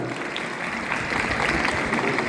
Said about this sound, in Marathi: जोरदार टाळ्या होतील त्या मित्रांनो